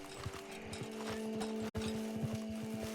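Horse hooves clop steadily in a video game, a regular rhythm of close, fairly loud footfalls over a sustained tonal hum of game music, broken by one brief dropout midway.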